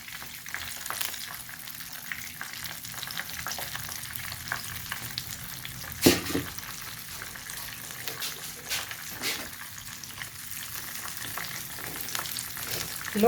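Stuffed eggplant (bharwan baingan) cooks in masala in a pan over a low flame, giving a soft, steady sizzle with a brief clatter of stirring partway through.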